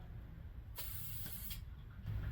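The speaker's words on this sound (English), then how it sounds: "Each time I go down, I'm covering about half of what I just sprayed over." Spray gun applying light coats of paint to a 1968 Dodge Charger, a steady broadband hiss that swells louder in a burst mid-clip, continuous and close with no talking.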